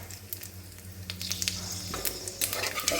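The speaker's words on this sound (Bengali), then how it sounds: "সেই মাছ ভাজার তেলে আমি একটু জিরে ফোড়ন দিয়ে দিচ্ছি" Cumin seeds and whole garam masala spices sizzle in hot oil left over from frying fish, a steady crackling hiss that grows busier and louder partway through, with no talk.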